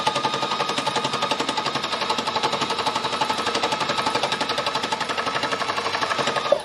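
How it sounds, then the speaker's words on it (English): A needle embellishing machine punches through small scraps of assorted fabric, giving a loud, fast and steady mechanical chatter of rapid needle strokes that runs unbroken throughout and then stops abruptly. "basically it's a machine that has a number of needles behind this little thing here, behind this little cover"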